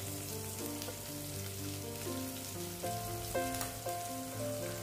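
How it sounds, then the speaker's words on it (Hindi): Chopped spiny gourd (kantola) frying in hot oil with a little asafoetida, a steady soft sizzle and crackle under sustained musical tones, with no talk. "तकरीबन 1 से 2 मिनट फ्रेंड्स हम इसे तेल में भूनेंगे"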